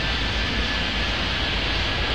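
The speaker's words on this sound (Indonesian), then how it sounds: "Oh, masih ada pesawat mendarat," An airplane landing in an air traffic control video game, a steady broadband engine roar, loud and even across the whole stretch, with no talk over it.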